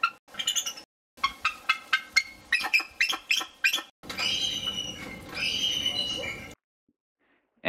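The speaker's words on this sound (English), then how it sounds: "Here's an example of a bald eagle." A bald eagle calls in a series of weak, high-pitched chirps and a rapid chattering trill, followed by a longer, harsher squealing run, each part separated by brief silences.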